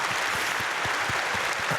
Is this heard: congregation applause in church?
yes